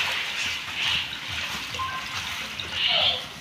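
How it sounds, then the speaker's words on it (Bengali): Water pours and splashes into a metal kadai in a couple of short, fairly close bursts of gushing and trickling. "এই কাইটা বানানোর জন্য প্রথমে আমি কড়াতে দিয়ে দেবো জল।"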